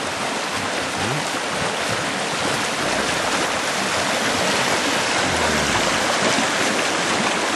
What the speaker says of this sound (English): it is just an incredible amount of water moving here with very, very good speed